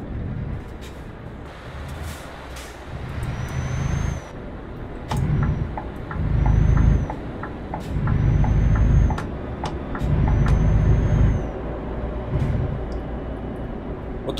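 Scania P&R truck mod driving in Euro Truck Simulator 2, a steady low engine rumble that swells in several surges, with sharp clicks and brief air-brake hisses over it, no talk.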